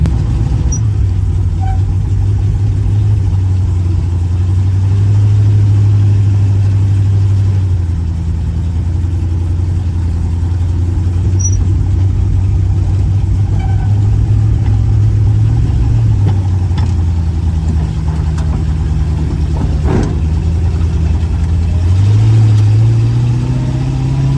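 A resurrected Ford Falcon Ranchero truck engine runs steadily while driving, a loud continuous mid-range drone with gentle rises and falls in pitch as it accelerates and eases off, with no talking.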